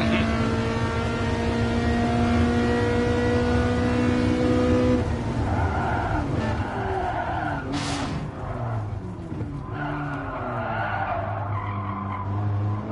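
A Ferrari F40 races in Gran Turismo Sport with a loud, steady engine drone that changes pitch at a gear shift midway. Tire squeal and skidding rise over it.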